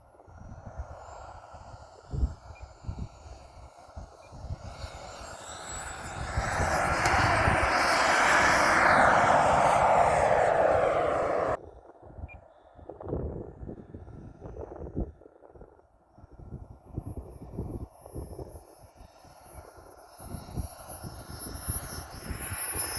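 Small Aerofoam T-45 RC model jet with a turbine engine, running at idle: a steady, loud whine and roar that holds for several seconds, then drops away abruptly into quieter engine hiss and rumble.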